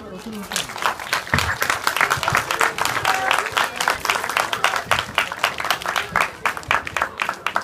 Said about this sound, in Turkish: Alkışlamıyor muyuz?